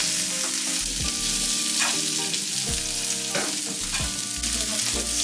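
Cauliflower frying in oil in a pan gives a loud, continuous sizzle and crackle, broken by periodic scraping strokes as the pieces are stirred, close up with no talking.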